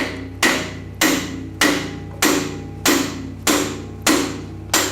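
Steady hammer strikes on a piano key, with eight sharp metallic taps spaced evenly about every half second, each ringing briefly, close and loud.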